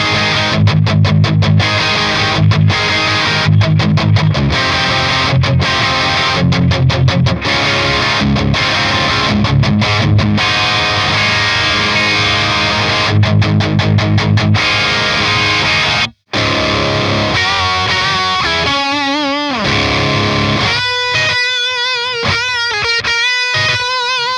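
Distorted electric guitar played through a Synergy Marshall JCM 800 amp module, loud and close, with chugging palm-muted riffs and stabbed chords, a brief dropout, then bending lead notes and rapid picked runs.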